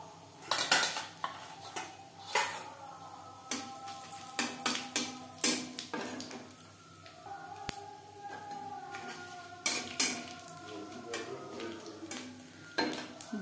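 A spoon clatters and scrapes in a wok while panch phoron and bay leaf fry in oil, sharp metallic knocks recurring irregularly over a faint sizzle, close and alone with no talk.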